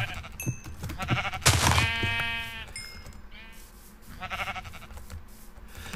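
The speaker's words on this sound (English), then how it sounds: "I'm gonna need more sheeps" Several bleats from sheep in Minecraft rise and fall in short, nasal bursts, some fairly close and loud, spread over the clip with game ambience between them.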